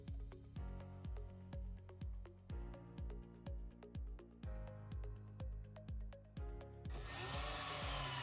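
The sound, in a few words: driving metal screws into RV storage install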